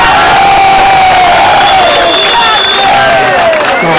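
A festival crowd at an Ascoli celebration cheers loudly on stage, a dense roar of shouting and whoops with applause mixed in, sustained and close throughout.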